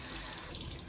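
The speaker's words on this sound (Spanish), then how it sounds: "A mojar la toalla con agua caliente." Hot water runs steadily from a tap to wet a towel, giving a close, continuous hiss with no pauses.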